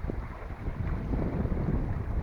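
Gusty wind buffets the microphone on a sailboat under full sails on open water, a low rushing roar with faint wave wash underneath.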